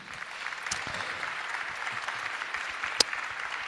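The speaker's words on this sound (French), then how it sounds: "Et enfin, nous avons Alain Damasio, qu'on peut applaudir aussi." A science fiction festival audience applauds steadily, a dense wash of clapping hands at moderate distance, with one sharp clap standing out near the end.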